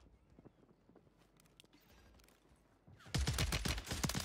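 Warzone 3 gunfire on Rebirth Island with an MX9 loadout: quiet scattered distant shots and footsteps, then a sudden loud, rapid automatic burst of close-range fire filling the final second.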